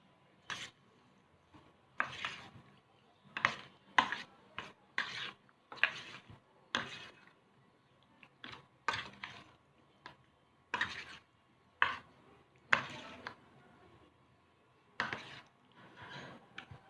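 Raw shrimp are mixed by hand with spices, sugar, salt and oil, a series of soft, quiet squelching rubs in short, uneven strokes separated by brief pauses.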